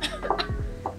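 A single short cough in a casual indoor conversation, sharp onset with a throaty burst, followed by a few faint vocal sounds.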